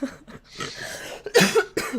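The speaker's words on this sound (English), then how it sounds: "Excuse me, I didn't mean to cough in everyone's ear." A podcast host coughs close to the microphone, several harsh bursts in quick succession with short breaths between them, loud and alone without talk.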